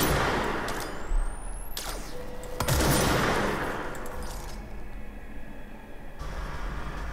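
Gunfire fills a scene in the game Control, with sustained rattling shots, heavy bursts and booming impacts rolling continuously for several seconds without speech.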